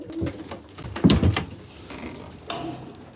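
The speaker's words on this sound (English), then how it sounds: "So here are the other birds that aren't sitting right now out in the aviary." Racing pigeons coo in an aviary, with several soft, low throaty coos and some rustling and mechanical clatter nearby.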